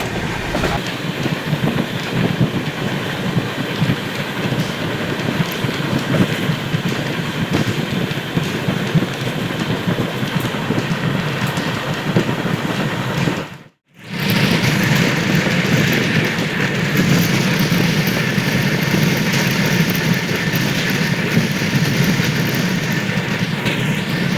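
A long-distance passenger train runs alongside Chilka lake in Odisha, its steady rolling rumble and rhythmic clickety-clack of wheels on rails continuous and close, dropping out briefly once before carrying on.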